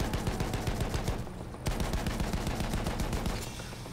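Gunfire sprays in Battlefield 1 multiplayer on PC: long, rapid machine-gun bursts crackle in a steady stream, break off for a brief pause, then resume just as loud and dense.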